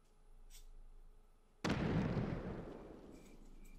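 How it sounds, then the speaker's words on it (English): A single sudden mortar blast booms in the Valkyria Chronicles video game, a sharp loud impact that decays into a rumbling tail over quiet background ambience. "Is that sound a mortar?"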